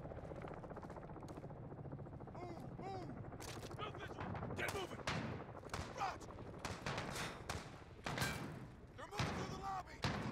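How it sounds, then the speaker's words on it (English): Flashbang grenades go off in Call of Duty Modern Warfare as several sharp, loud bangs scattered through a busy firefight with gunshots and a low rotor-like rumble, while voices talk over the action. "There was some flashbangs."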